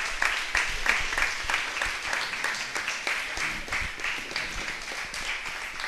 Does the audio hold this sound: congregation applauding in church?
yes